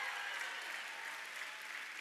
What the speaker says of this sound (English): let's keep our hands clapping